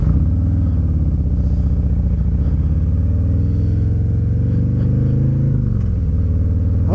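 A motorcycle rides along the road, its engine giving a loud, steady, continuous rumble that rises slightly in places, with no voices.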